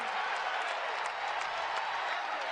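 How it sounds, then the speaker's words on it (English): A sellout basketball crowd in Diddle Arena roars and applauds after a block, a dense, steady wash of cheering that holds at the same level throughout with no pauses. "And this sellout crowd in Diddle Arena loves that block by Anderson."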